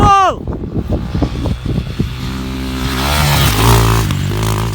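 A KOVI Advance 250 enduro motorcycle revs hard up close, its engine climbing in sharp rising bursts, then settling into a loud sustained drone as it pulls away on an enduro and motocross ride, with a shout over it at the start.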